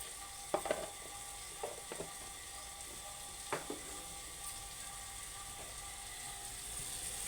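Telangana-style bitter gourd (kakarakaya) fry sizzling in a pan, a steady hiss with occasional sharp scraping clicks of a utensil against the pan.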